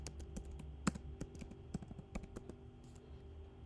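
Someone types a short commit message on a computer keyboard, giving a quiet, close series of irregular key clicks with a few sharper taps.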